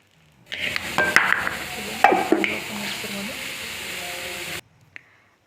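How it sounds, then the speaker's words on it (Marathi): Whole spices and poppy seeds dry-roast in a pan, heard as about four seconds of continuous scraping and stirring with dry rustling and a few utensil knocks, close and fairly loud, then stopping abruptly. "खसखस उडते म्हणून सोबत एकत्रच टाकायचं सर्व आणि भाजून घ्यायचं"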